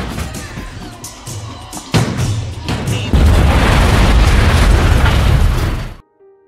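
A bomb explosion in an action film, a loud booming blast that hits, then swells into a second, heavier roaring burst and rumbling debris that sustains before cutting off abruptly.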